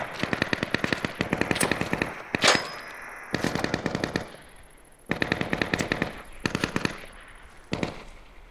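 Rapid bursts of automatic gunfire come from the woods in the survival shooter Deadside, loud and crackling, in several clusters broken by brief gaps.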